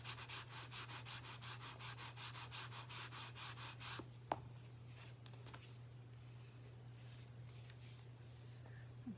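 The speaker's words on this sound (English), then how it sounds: "Give that a good burnish." Paper rubbed firmly onto a card, a quiet rhythmic scrubbing of about a dozen quick strokes that stop after four seconds, then a soft tap and faint hum.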